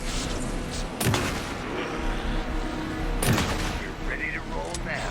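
Heavy gunfire in the horror video game Alan Wake II, with bursts of shots over a loud, dense game soundscape and two sharp booming blasts standing out, and voices faintly mixed in.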